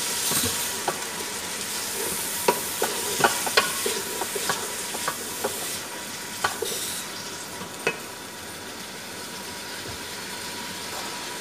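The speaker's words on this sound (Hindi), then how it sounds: "अभी हम इसमें टमाटर शामिल कर रहे हैं इसको हल्का सा भून के" Steady frying sizzle of tomatoes in a pan with sharp stirring clicks and taps scattered throughout, close and continuous, no voices.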